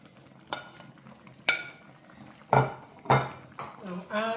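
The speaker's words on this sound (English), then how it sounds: "Now add more crayfish. Just a gentle stir." Spoon clinking and scraping against a metal pot while gently stirring Nsala fish soup with crayfish, grilled mackerel and yam, several distinct knocks spaced about a second apart, fairly close.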